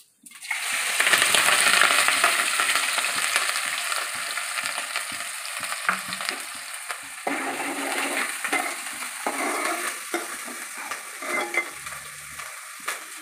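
Green chillies and cumin hitting hot oil in a pan for okra curry, a loud burst of sizzling that settles into steady frying with occasional stirring scrapes.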